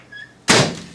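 A microwave door shuts with a single loud thunk partway through, followed by a brief decaying rattle, with quiet kitchen room tone before it.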